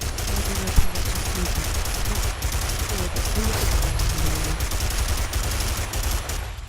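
Rapid gunfire from a weapon's alternate fire mode in the dinosaur shooter Primal Carnage, a dense, loud burst of repeated shots lasting several seconds, with a player speaking faintly over it.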